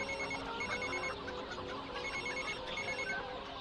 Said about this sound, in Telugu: ముందు మీ నాన్నగారికి ఫోన్ చేయి.